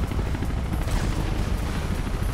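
Helicopter in the video game Mirror's Edge, a continuous loud rotor drone with low thumping churn and noisy wash filling the whole stretch, steady and close, with no speech over it.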